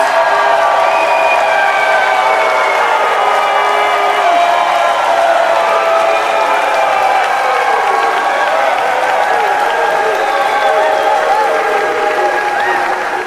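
A crowd at a live debate event cheers and applauds in a steady, dense roar that stays loud from start to finish, with whoops and shouts mixed in.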